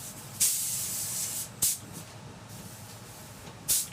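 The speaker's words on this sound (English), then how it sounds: "This is a primer mix, and I'm spraying it over and overlapping" A spray gun fires short hissing bursts of medium-build primer mix onto a cafe-style car tank, three close, sharp sprays of about one second each separated by a low background hum.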